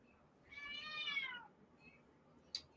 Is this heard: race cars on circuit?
no